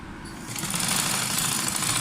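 A sewing machine starts up and stitches along a fold in fabric with a fast, steady mechanical whir and chatter, loud and close, lasting under two seconds.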